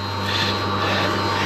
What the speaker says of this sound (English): Excuse the noise of that pump.